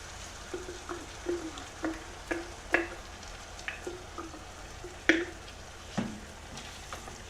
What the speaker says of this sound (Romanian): Amestecăm și lăsăm cam 10 minute să fiarbă.